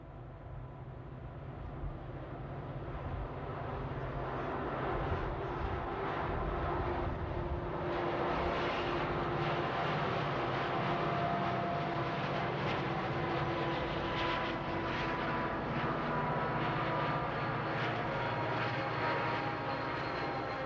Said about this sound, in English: The SD45 was king of the Shasta line, and this set affirms that near Weed, California.